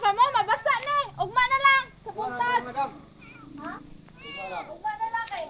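High, repeated meows from a small kitten at a resort construction site in the Philippines, close by, mixed with people talking over them.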